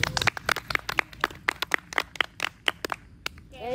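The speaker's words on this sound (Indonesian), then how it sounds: "Tepuk tangan dulu boleh kali ya?" A few people clapping hands in a small room, sharp distinct claps in an uneven, loose rhythm, close and fairly loud, stopping just before the end.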